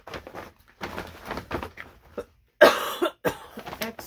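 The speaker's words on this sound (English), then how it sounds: "don't start your coughing again" A woman coughs, a few brief harsh coughs close by, mixed with quiet handling noises and short breaths.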